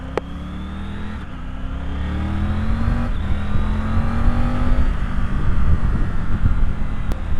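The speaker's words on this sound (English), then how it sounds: "Gotta love a good old Triumph quick shifter. Works great." A 2020 Triumph Tiger 900 Rally Pro motorcycle accelerates, its engine pitch climbing in steps through quick-shifter gear changes, each shift a brief clipped break before the revs rise again, with loud rushing wind noise.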